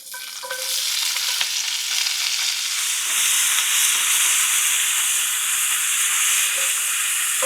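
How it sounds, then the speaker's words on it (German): Snow peas sizzle and hiss loudly in hot olive oil, a dense continuous frying crackle with occasional stirring knocks, close up and without speech. "Die Zuckerschoten werden wir jetzt ein bisschen anbraten"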